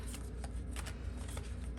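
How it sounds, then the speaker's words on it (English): Thick tarot cards riffle shuffled by hand, a dense, continuous papery flutter with several sharper snapping bursts, close and steady throughout. "shuffling them, riffle shuffling them is very, very hard"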